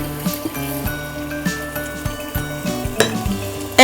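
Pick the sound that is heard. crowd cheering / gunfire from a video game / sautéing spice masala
sautéing spice masala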